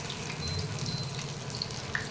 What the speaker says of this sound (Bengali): এই যে এক পিঠ ভাজছি, এখনো ভাজা হয়নি, একটু উল্টে দিচ্ছি,